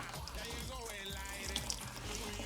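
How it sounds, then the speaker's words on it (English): Hot water draining from the tankless coil of a Peerless WBV-3 oil boiler, a steady rushing splash with faint dripping, close by, with people talking over it. "And all that water is what's inside that coil and whatever's inside this pipe"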